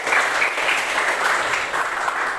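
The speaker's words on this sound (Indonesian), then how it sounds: "tepuk tangan untuk kalian semua" Students applaud together in a classroom, a dense, steady wash of hand claps that stays loud and even from start to finish with no talk over it.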